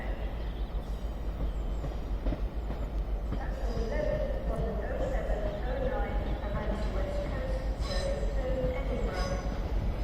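Transport for Wales Class 175 diesel train arriving at Crewe station, a steady low rumble with faint wheel squeal and rail clatter building midway, heard at moderate distance under station ambience.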